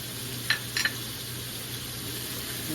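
Bay leaves stirred into a sizzling pan of chicken pastil: a steady low frying hiss with two or three soft clicks of a utensil against the pan early on, quiet and close.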